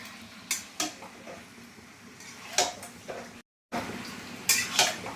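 Meat is stirred and sautéed in a pot for a bottle gourd and meat curry, producing a handful of distinct metallic scrapes and clanks of a spoon against the pot over a soft background, with a brief silent break near the end.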